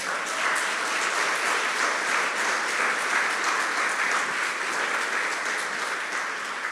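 A church congregation claps together in sustained, even applause, a thick wash of hands that holds steady from start to finish.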